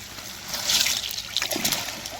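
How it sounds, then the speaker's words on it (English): Water splashes and trickles over a freshly butchered Cornish cross chicken during rinsing, a close, uneven spatter. "Gonna rinse it off, get it cleaned up, and put it in the water to sit for 10 minutes."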